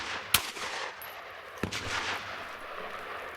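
Two sharp gunshots from a Smith & Wesson Shield pistol firing hot-load ammunition, spaced about a second apart, each with a short outdoor echo over faint background hiss.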